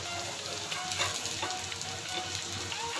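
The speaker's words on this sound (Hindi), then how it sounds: "चार मिनट हमारी टिकिया को फ्राई होते हुए हो गया है।" Leftover-rice tikki patties fry in a pan with a steady, close sizzle and fine crackling spatter that continues evenly throughout, with no voices.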